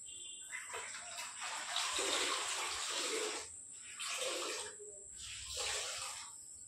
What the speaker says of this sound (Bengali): আর এই যে দেখো জল আর মোছা নিয়ে চলে এসেছি। চলো এবার ঘরটাকে পরিষ্কার করে মুছে নিই।